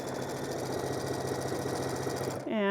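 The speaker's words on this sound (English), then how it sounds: "you're going to sew 1/4 inch on both sides" A sewing machine stitches quilt triangles with a steady, fast mechanical whir and rapid needle chatter, running continuously at close range before stopping abruptly near the end.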